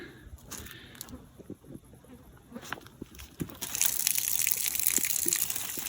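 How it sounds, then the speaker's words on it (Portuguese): Water runs from a garden hose while it is being used as a water level, a soft steady flow with faint trickling and splashes that grow into a brighter gush near the end. "a água ainda está correndo aqui"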